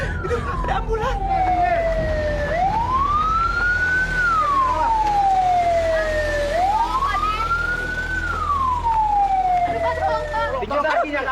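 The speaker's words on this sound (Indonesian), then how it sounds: "Itu ada ambulan." An ambulance siren wails in long rising and falling sweeps, two full cycles, loud and steady over background noise, with people talking faintly underneath.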